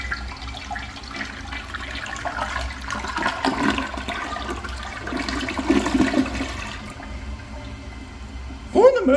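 A 1960s–70s American Standard Cadet toilet flushes, its bowl rinsing through a swirl and angled rim jets: a continuous rushing, gurgling wash of water lasting several seconds, close and moderately loud, ending with a brief louder splash.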